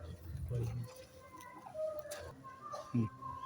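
Hens and roosters from a flock of chickens give faint clucks and short calls, thin and somewhat distant, over low background noise.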